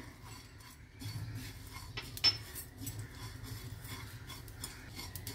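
Pumpkin seeds dry-roasting in a pan, scraped and stirred with a steady low rustle and soft metallic scrapes, plus one sharper clink near the middle; no one speaks.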